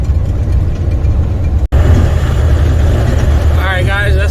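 Car driving up a mountain road in strong crosswinds, a loud steady low rumble of engine and wind buffeting that cuts out for a brief moment before resuming, with faint whistling near the end.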